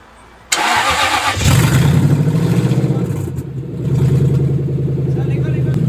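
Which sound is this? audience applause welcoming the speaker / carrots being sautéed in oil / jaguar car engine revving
jaguar car engine revving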